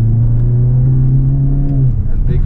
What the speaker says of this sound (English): I'll just show you if I kind of accelerate